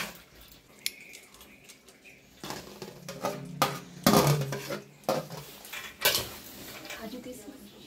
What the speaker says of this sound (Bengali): মনি ওই চিলি পনির নাড়ানাড়ি করছে, রান্না করছে